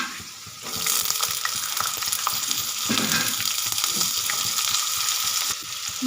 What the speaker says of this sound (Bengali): আমি সমস্ত সবজিগুলোকে ভেজে নেব